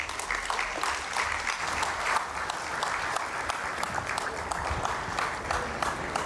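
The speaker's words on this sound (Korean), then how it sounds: "김한중 제16대 연세대학교 총장님을 큰 박수로 맞이하겠습니다." A seated forum audience claps steadily to welcome the chairperson of a healthcare session. The applause is dense and even, holding at a moderate level throughout with no voices over it.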